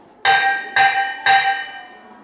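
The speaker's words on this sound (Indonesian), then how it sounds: "Bel masuk pun berbunyi" A school bell strikes three bright metallic rings in even succession, each ringing out and decaying, clear and close against a quiet background.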